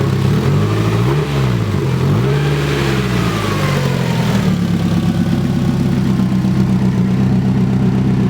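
A Toyota JZX90 fitted with solid subframe bushings is driven, its engine droning loudly and steadily throughout, with revs rising and falling in a couple of smooth swells before settling into a continuous hum.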